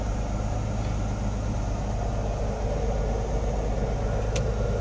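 Mercedes 280 with an inline six-cylinder engine running steadily, a continuous low rumble with an even hum throughout and a faint brief tone near the end, no speech.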